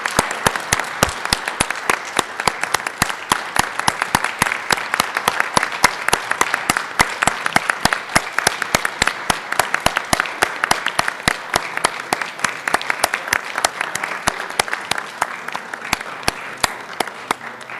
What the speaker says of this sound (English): a round of applause once again for our Korean War veterans